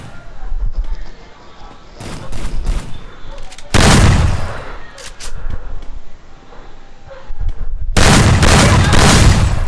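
Shotgun blasts in a first-person shooter game, several loud broadband bursts with a heavy one near the middle and another sustained at the end, over busy game noise.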